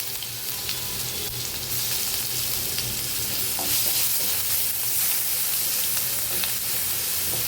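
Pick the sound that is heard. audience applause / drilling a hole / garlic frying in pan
garlic frying in pan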